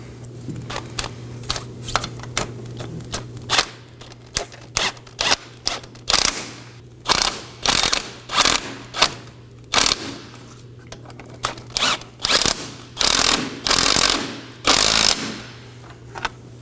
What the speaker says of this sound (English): Now I'm going to snug down my transmission side bolts.